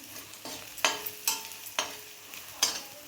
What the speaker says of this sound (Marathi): लाल तिखट व्यवस्थित मिक्स करून घेते